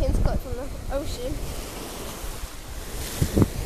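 Ocean waves wash onto a beach in a steady broadband surf with wind buffeting the microphone, while a voice speaks briefly at the start and other short voices appear near the end.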